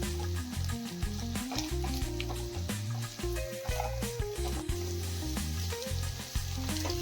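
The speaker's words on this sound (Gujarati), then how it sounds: "બધા શાકભાજીને આપણે હાઈ ફ્લેમ પર સરસ રીતે કૂક કરી લઈશું" Cabbage and carrots stir-fry on high flame for Schezwan rice, with a loud, steady sizzle close by and occasional stirring scrapes in the pan, while background music plays underneath.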